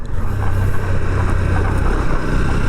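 A Honda Hornet 2.0 motorcycle rides along a road past rubber plantations in Fatikchhari, giving a steady engine hum mixed with rushing wind noise, continuous and fairly loud.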